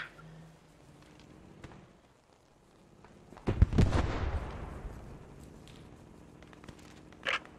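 A distant gunshot or artillery blast in the World War II shooter Post Scriptum, a single heavy boom with a long rolling decay, followed later by a faint sharper crack.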